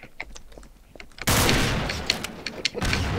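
Rapid bursts of gunfire and booming blasts break out suddenly and continue densely, loud, game-like combat noise with sharp cracks over a rumbling wash, from Trouble in Terrorist Town in Garry's Mod.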